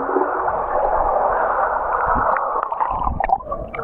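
Wave pool water heard from underneath the surface at a Puerto Princesa waterpark: a steady, muffled churning wash with low rumbling surges and faint bubbling throughout, no voices.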